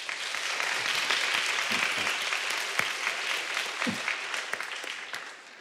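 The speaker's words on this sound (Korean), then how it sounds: "우리 단원들 격려하는 박수 한번 하겠습니다" A church congregation claps steadily after a choir performs at a Sunday service, a dense, sustained round of applause that gradually tapers off toward the end, with no speech over it.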